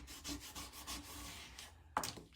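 Close, quiet rhythmic rubbing as craft vinyl is pressed from its backing onto a sticky transfer sheet, several soft scraping strokes followed by a brief sharper crinkle near the end.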